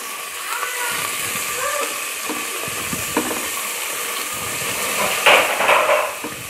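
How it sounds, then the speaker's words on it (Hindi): Garlic and onion frying in a pan, giving a steady, close sizzle that runs throughout, with occasional stirring clinks and a brief louder crackle near the end. "और इसके बाद हम इसमें प्याज डालेंगे और प्याज को थोड़ा टाइम के लिए फ्राई करेंगे"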